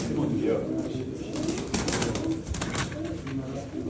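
Pigeons coo in a loft among fancy breeds such as jumbo and miski birds, a steady murmur of low cooing under continuous background noise and nearby voices talking.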